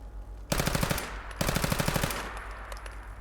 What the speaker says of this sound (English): why is there still turret noises?